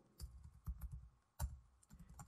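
Quiet, close typing on a computer keyboard while writing Android code, with short irregular bursts of key clicks and a few louder taps.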